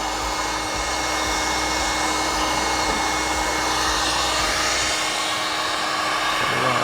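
A hair dryer blows a steady, loud, continuous whoosh of hot air onto a dent in the bonnet of a Alfa Romeo Mito Cloverleaf, running unbroken throughout with no talking.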